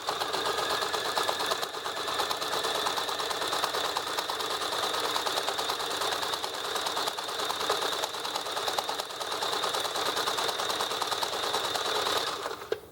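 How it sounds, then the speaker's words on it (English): A sewing machine stitches a reinforced trouser waistband for suspenders, a fast even run of needle clatter sustained close up for the whole stretch before stopping. "by stitching from this side, I can use the garment seams to help line up my foot"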